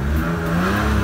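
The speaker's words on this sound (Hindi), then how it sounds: "थोड़ा सा आपके सामने थ्रॉटल दिया है" A Daihatsu Mira ES 660cc engine revs loudly and continuously up close in winter, a steady droning whir with the throttle held open.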